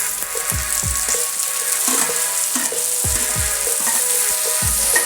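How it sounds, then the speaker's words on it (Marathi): Tomatoes sautéing with browned onions in a pan for veg pulao, a steady frying sizzle broken by repeated low scraping thuds of stirring, close and continuous with no talk. "टोमॅटो देखील छान असा परतवून घ्यायचा आहे।"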